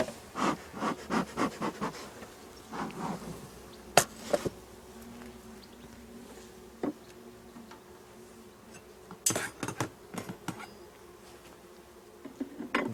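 Honeybees buzz around small nucleus hives during a beekeeper's inspection outdoors, a faint steady hum broken by sharp clicks and taps of frames and tools.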